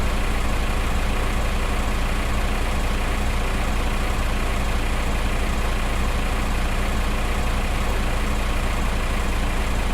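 Massey Ferguson tractor engine in Farming Simulator 2015, running steadily under a load it easily carries, a constant heavy diesel drone with no talk over it.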